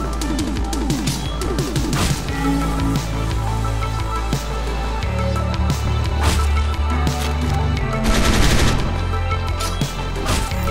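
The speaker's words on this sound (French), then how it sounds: "Ah, elle est vraiment puissante la batteuse." Machine gun fire in Hotline Miami 2: Wrong Number, loud dense bursts layered over driving game music with heavy bass throughout.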